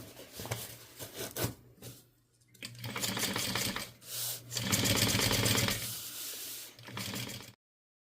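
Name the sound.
sewing machine top stitching fabric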